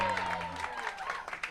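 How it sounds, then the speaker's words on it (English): An audience applauds comedy show finalists in a short burst of clapping from a small crowd, heard close and fairly steady. "Give yourselves a round of applause"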